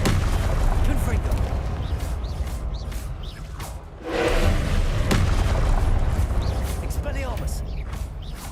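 A Confringo blasting spell explodes in a Harry Potter video game with a booming burst around the middle. Rumbling combat sounds and other spell effects continue before and after it.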